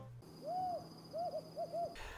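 Desert Tawny Owl hooting at night in the desert, a long drawn first hoot followed by a short rhythmic series of quicker hoots, clear and isolated against faint background hiss.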